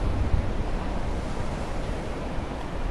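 Ocean waves surging onto a shore, a steady broadband wash of surf with wind rumbling across the microphone, fairly loud and continuous with no voices.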